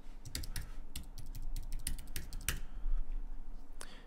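Fingers type a terminal command on a computer keyboard in quick, close, uneven keystrokes, ending with a sharper key tap.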